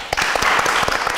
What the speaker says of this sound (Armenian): Ես առաջարկում եմ ծափարենք Ամալ Դոլուխանյանին։